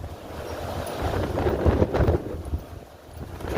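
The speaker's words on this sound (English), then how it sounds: "It's windy." Strong wind gusts buffet the microphone in Newark, Ohio, a low rumbling rush that swells in the middle and eases off, with no talking.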